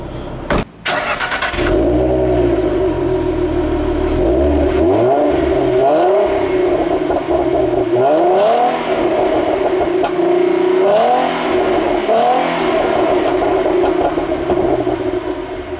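A 2014 Ford Mustang with the 3.7-liter V6 and six-speed manual starts with a sharp crank, then revs repeatedly in loud rising and falling sweeps, each climb dropping back to a settled idle between blips, close up and without talk.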